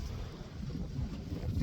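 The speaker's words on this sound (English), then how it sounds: "I don't know if you can hear the wind. It's pretty windy." Loud, continuous low rumbling wind buffeting a microphone, steady throughout with no other distinct sounds.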